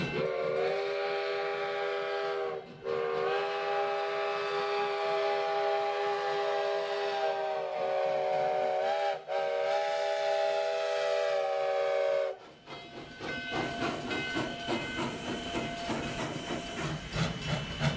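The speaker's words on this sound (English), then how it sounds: "Number 29 pulls its train into the station at Virginia City." Virginia & Truckee steam locomotive Number 29 at the Virginia City station gives a long, loud whistle in several blasts with brief breaks, then releases bursts of hissing steam.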